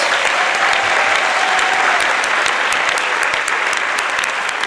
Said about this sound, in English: Ladies and gentlemen, another round of applause for these young folks